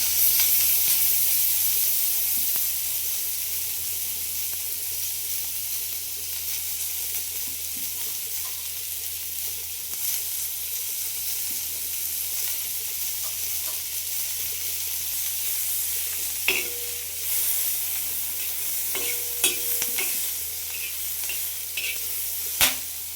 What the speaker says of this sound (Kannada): ಹಂಚು ಬಿಸಿಯಾಗಿದೆ, ಹುರ್ಕೊಂತೀನಿ. ಸ್ವಲ್ಪ ಎಣ್ಣೆ ಹಾಕ್ತೀನಿ.